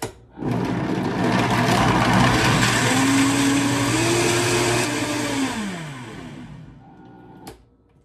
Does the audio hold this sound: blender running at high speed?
yes